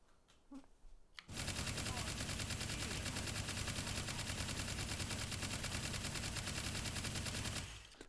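Loud, rapid automatic gunfire in the VR shooting game Hot Dogs, Horseshoes & Hand Grenades, a heavy gun firing continuously for about six seconds after a brief quiet lead-in, then stopping abruptly.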